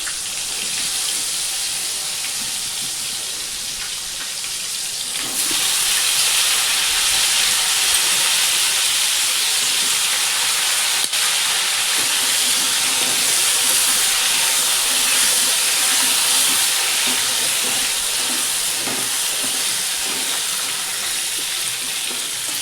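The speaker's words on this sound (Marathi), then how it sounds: "मोहरी चांगली तडतडली बघा" Mustard seeds, cumin and asafoetida sizzling in hot oil as a tempering for ridge gourd curry: a loud, continuous crackling hiss that grows stronger after a few seconds and holds steady, with no voices.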